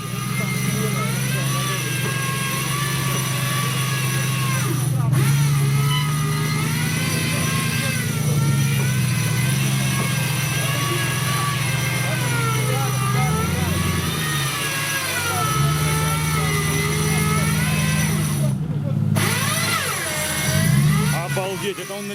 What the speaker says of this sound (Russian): Обалдеть, это он на лебедке едет.